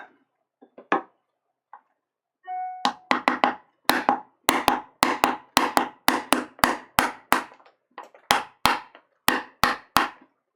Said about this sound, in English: noisier knife and a larger chisel here